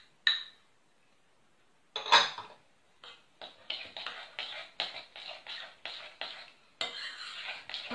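A spoon stirs honey, sugar and other ingredients in a bowl for cozonac dough, giving a single sharp clink, then a run of rhythmic scraping and tapping strokes that is close and quiet.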